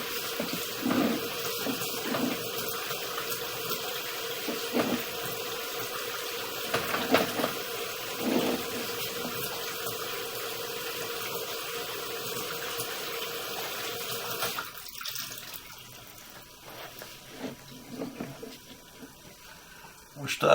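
Water runs steadily through a drain pipe during a video pipe inspection, a constant hissing rush heard close. The flow drops off partway through, leaving fainter trickles and clunks.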